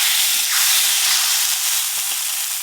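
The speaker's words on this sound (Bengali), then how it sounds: "এবার তরকা ছকে দেব।" Hot ghee tempered with asafoetida and dried chilli is poured over dal fry, setting off a loud, close, continuous hissing sizzle that carries on steadily without pause.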